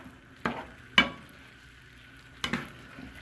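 Beef being stirred in a pot of liquid for stroganoff, three distinct scraping clanks of a utensil against the pot over a soft steady bubbling sizzle, close and quiet.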